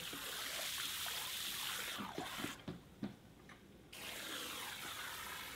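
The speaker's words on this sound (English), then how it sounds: "we're just using the spray to break up the pulp" A hose spray hisses steadily into a vat of paper pulp, breaking up the clumped fibers for papermaking. The spray cuts out for about two seconds, leaving a few drips and splashes, then resumes at full strength.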